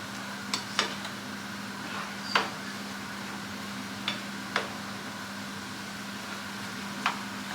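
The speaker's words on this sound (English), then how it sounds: "So I'm going to mix these together while that hamburger finishes cooking." Chopped onion and other stuffed-pepper ingredients are stirred together in a kitchen bowl, giving a handful of sparse, faint utensil taps and clinks over a steady low appliance hum.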